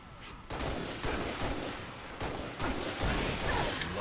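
Rapid gunfire in Halo Reach, a string of sharp close shots at irregular intervals over a continuous noisy game background.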